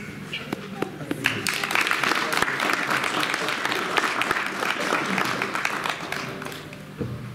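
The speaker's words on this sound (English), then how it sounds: "So I request you all to welcome him with a big round of applause." A gathered audience gives a big round of applause to welcome a speaker, with dense, sustained clapping and faint crowd noise that hold steady for several seconds before easing slightly at the end.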